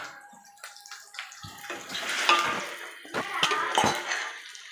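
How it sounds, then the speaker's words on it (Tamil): Soaked chickpeas tip into a pan of frying mutton. A close, hissing, splashy rush builds and carries on with a few soft knocks against the pan. "இப்போ வந்து நம்ம ஊற வச்ச கொண்டக்கடலையே போட்டுக்கலாம்"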